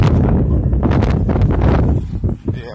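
Steady, loud wind buffeting the microphone, a broad roaring rush that dips briefly near the end.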